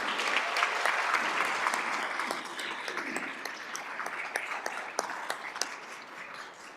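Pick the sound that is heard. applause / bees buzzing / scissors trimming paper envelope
applause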